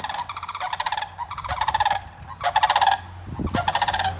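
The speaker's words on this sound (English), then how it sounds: "Those were the cranes. Oh, they're so cool. They're so loud." Loud, trumpeting crane calls ring out in repeated rattling bursts, several cranes calling together in rhythmic volleys, close and strong.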